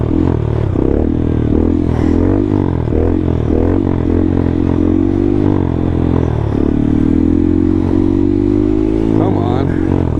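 Honda Grom motorcycle rolling downhill in a seated wheelie while the foot brake is used, a loud continuous low engine drone with rising revs and clatter, a rider's voice over it at times.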